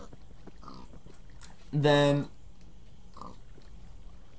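A single loud pig grunt from a pig in a breeder in a Minecraft modpack, brief and close, set between quiet bits of speech.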